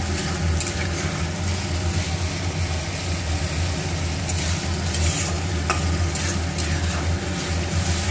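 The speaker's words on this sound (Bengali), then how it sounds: "আমি মশলাটা ভালো করে কিন্তু কষিয়ে নিলাম, এখনো কষাতে হবে।" Spice paste with salt and turmeric sautéing in hot oil for a pabda fish curry, a steady close sizzle with scraping and stirring from a spatula throughout, and a low hum underneath.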